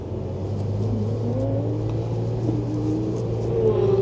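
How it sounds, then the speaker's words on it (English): A car engine accelerates out of the pits at Donington Park behind a Porsche Cup car, a steady close-up drone with rising and falling revs under a constant rumble, and no talk. "Let's follow a Porsche Cup car out onto Donington Park for some laps."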